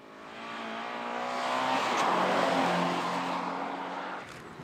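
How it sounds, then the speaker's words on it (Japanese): Toyota 86 drifting through a rally stage, engine revving with rising harmonics as the car slides, a loud steady roar swelling to a peak then easing off, no talk. "86らしいドリフトも随所に見せつつタイムを上げていく"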